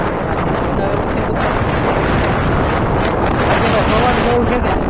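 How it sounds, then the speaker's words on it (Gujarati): Strong gusty wind blows outdoors in an open place near a river ashram at Palitana, a loud continuous rush buffeting the microphone throughout. "પવન બહુ છે કે"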